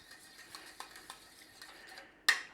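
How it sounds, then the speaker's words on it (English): Beaten egg, water and oil for Polish pierogi ruskie dough being stirred in a bowl, soft repeated scraping and clinks at close range, ending in one sharper, louder clatter. "We're going to give that a mix."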